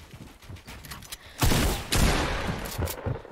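Gunfire in a video game, a loud close burst of rapid shots that swells suddenly midway and continues as sustained, dense firing, with no talk.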